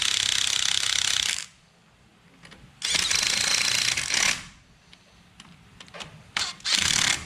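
An electric impact wrench runs in caliper mounting bolts during a wheel hub change on a GMC Sierra 1500. It fires in loud, close, rattling bursts, with three main runs separated by quiet pauses.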